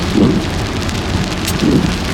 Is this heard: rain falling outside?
yes